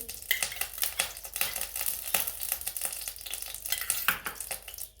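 Two spoons of ghee heat in a kadai on a gas stove, producing a soft sizzle punctuated by irregular metallic scrapes and clinks of a spoon against the pan, nearby and uneven.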